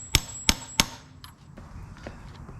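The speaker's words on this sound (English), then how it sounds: "Gonna give it a little tappy tap." A hammer taps a gear taper on the timing side of a 1950 BSA B33 motorcycle. Three sharp, evenly spaced metallic knocks ring close by, followed by a few fainter clinks and light handling noise.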